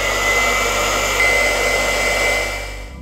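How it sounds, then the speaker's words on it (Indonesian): An ordinary hair dryer runs steadily at close range, giving a loud, continuous broadband whoosh with a faint motor whine. It cuts off sharply near the end. "Sekarang aku nyalain hair dryer yang biasa."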